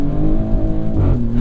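A 2024 Maserati GranTurismo Trofeo with all-wheel drive, driven on wet roads, gives a steady, close engine drone with a rough, throaty edge and a slight rise in pitch near the end.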